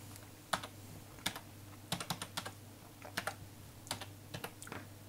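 Password typed on a computer keyboard: quiet, irregular clusters of crisp key clicks spread across the stretch over a low background hum, with no talking.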